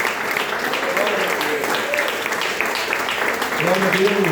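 A church congregation applauding during a family worship service, with steady clapping throughout and voices mixed in beneath it.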